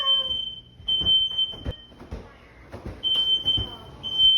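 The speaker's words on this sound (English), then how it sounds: "I accidentally burned some cheese while I was making my quesadillas because I was hungry and fucking fire alarm went off" Apartment smoke alarm triggered by burnt cheese, a shrill piercing tone sounding in long bursts with short gaps, while someone talks and moves around nearby.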